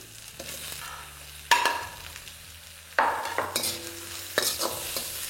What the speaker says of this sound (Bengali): ভালো করে মেশানো হয়ে গেলেই কেটে রাখা পেঁয়াজগুলো এখানে দিয়ে দিন।